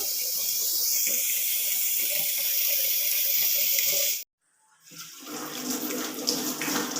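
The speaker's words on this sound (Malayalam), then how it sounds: "ചോറ് വെക്കാനുള്ള വെള്ളം പിടിച്ചെടുക്കുകയാണ്." Water running from a tap to fill a pot for cooking rice, a steady loud gushing that cuts off abruptly, falls silent for a moment, then resumes as a quieter splashing stream.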